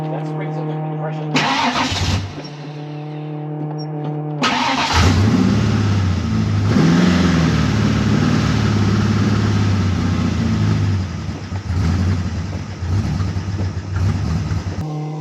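A 1993 Ford Mustang fouled with old race fuel cranks, fires and revs loudly up close, then runs roughly and unevenly as if struggling to keep going.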